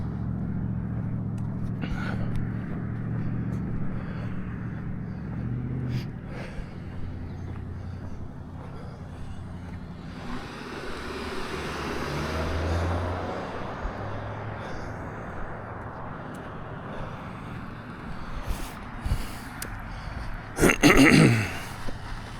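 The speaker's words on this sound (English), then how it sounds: "So like I said, lots of traffic." Road traffic passing by outdoors on a cloudy day, a continuous rumble of cars with a louder vehicle sweeping past near the middle and a sharp nearby pass toward the end.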